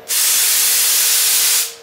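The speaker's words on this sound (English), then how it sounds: "get the air flowing and start to flush those shavings out as I start to drill" Compressed air rushes steadily through a woodturning gun drill as its ball valve opens, a loud, broad hiss that starts abruptly, holds for over a second, then cuts off.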